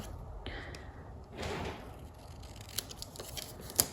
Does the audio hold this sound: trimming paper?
yes